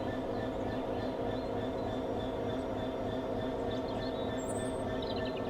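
Diesel locomotive number 66245 in the Train Sim World 4 video game, heard as a steady, continuous engine drone with a rail rumble, holding at a constant level throughout.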